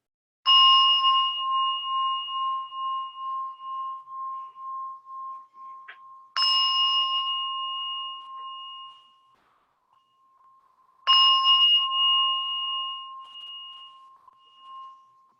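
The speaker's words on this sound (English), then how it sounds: "Ring the bell 3 times to bring us into this moment." A meditation bell at a chair-and-mat yoga session is struck three times, each clear ring decaying slowly into silence before the next.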